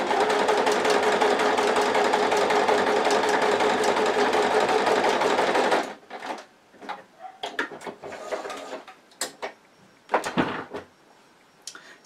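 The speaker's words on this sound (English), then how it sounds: "We're just going to take it to the machine and we're going to stitch." A sewing machine stitches a quarter-inch seam on a fabric mug coaster, whirring loudly and steadily for about six seconds, then stopping; soft handling clicks and rustles follow.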